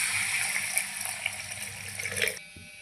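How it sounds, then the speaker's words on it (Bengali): Water from a rinsed mixer-grinder jar poured into a pan of vegetarian matar paneer curry, a continuous close splashing pour that stops abruptly near the end. "দিয়ে দিচ্ছি মিক্সির বাটি ধুয়ে জল"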